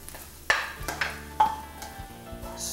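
Sautéed onions being stirred into sweet potato in a pan, with soft sizzling and several distinct scraping, clinking strokes of a utensil against cookware, close and fairly loud.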